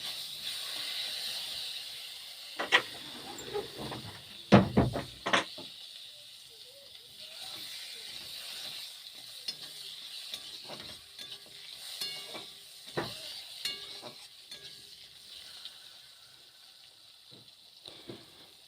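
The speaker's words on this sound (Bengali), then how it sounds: "এইবার এর মধ্যে দিয়ে দেব সুটোগুলো দিয়ে একটু নাড়াচাড়া করে নেব দু একবার" Pieces of dried green mango drop into hot oil tempered with five-spice and burst into a brief loud crackle, then settle into a quieter sizzle with occasional stirring scrapes.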